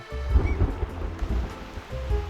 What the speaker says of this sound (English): Rain starts to pour.